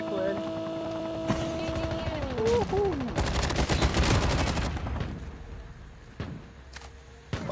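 Rapid bursts of gunfire from Call of Duty Mobile battle royale crackle in the middle, with synthetic tones and a voice talking over it.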